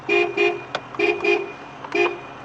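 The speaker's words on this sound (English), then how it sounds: "So we have a working horn." A 1980 Datsun 280ZX's horn honks several times in short bursts, a couple of longer toots and a quick tap between them, loud and close.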